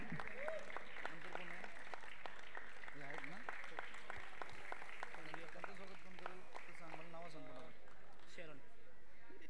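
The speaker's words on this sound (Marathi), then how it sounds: "जोरदार टाळ्यांच्या गजरात स्वागत झालं पाहिजे।" Crowd clapping to welcome guests at a monsoon football tournament prize ceremony, continuous scattered applause throughout, with a voice talking over it and other people chattering nearby.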